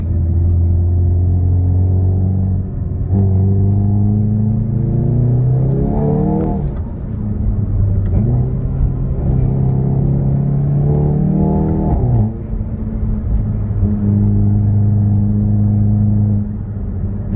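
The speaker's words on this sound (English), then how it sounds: "All you're focusing on is the sound of the engine." Hyundai i30N car engine on a test drive, a steady loud rumble from inside the cabin with several rising revs as it accelerates through gears, each climb ending in a brief drop before settling back to a drone.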